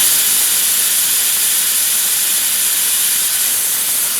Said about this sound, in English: Now, recheck the airflow and make sure it's nice and loud.